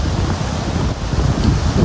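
Cold wind blows across the trail on the North Annapurna Base Camp trek, a steady, loud roaring rush buffeting the microphone with constant low rumble and no voices.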